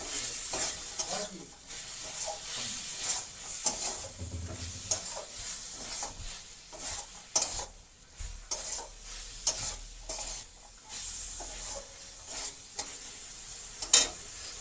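Green peas sizzle loudly as they hit hot oil and spices in a pan for Bengali aloor dom, a steady crackling fry with repeated stirring scrapes throughout and no talking.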